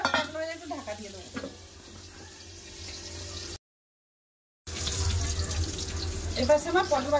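Potol, pointed gourd, sizzling in hot oil in a pan, a steady hiss with spoon scrapes and clinks, broken by a brief silent gap before the frying resumes louder with crackling spatter.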